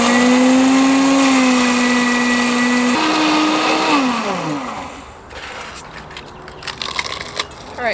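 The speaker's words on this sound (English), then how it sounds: "this really gets them into a really nice fine powder. So if you have a blender, I recommend using the blender" Blender grinding eggshells into fine powder, a loud whirring motor pitch that shifts and drops, then winds down into rattling and clattering of shell fragments near the end.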